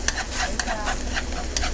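Meat for bánh xèo sautés in a hot pan, giving a steady close sizzle broken by repeated scraping stirs of a utensil, with no talking.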